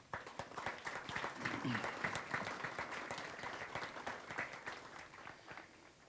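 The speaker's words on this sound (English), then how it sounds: "Please join me in a round of applause for all of our distinguished guests." Guests at a cavalry unit's outdoor military change of command ceremony give a round of applause: many hands clapping in dense, crisp bursts that swell and then gradually thin out, with faint voices in the crowd.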